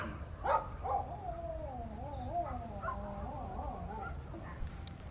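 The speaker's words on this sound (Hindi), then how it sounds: "सुनिए आवाज जो अभी लास्ट कुत्ते ने बोला है कुछ" A dog gives odd, warbling, bark-like yelps and moaning whines, a few short sharp yips followed by wavering drawn-out cries at moderate distance over faint background noise.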